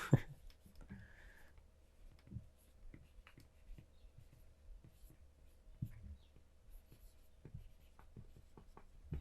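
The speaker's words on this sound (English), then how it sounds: "And I will write it down because it's cool." A pen scratches quietly across paper as a quote is written down by hand, faint irregular strokes and small taps in a quiet room, with a soft breath near the start.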